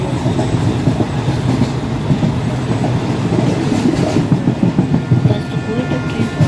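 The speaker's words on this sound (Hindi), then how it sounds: "सामने से कोई ट्रेन आ रही है" Train rumbling and clattering steadily along the rails in an Indian train driving 3D video game, a continuous loud rolling roar with rhythmic clickety-clack of wheels throughout.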